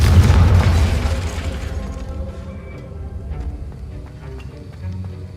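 Confringo blasting curse going off in Hogwarts Legacy: a loud, deep boom that rolls into a long rumbling decay, with faint crackling debris and low mechanical noise trailing behind.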